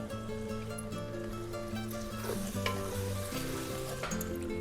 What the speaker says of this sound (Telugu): ఇక సాంబార్ పొడి ఈ ముక్కలలో వేసుకొని తిప్పుకుంటే పులుసు చిక్కగా వస్తుంది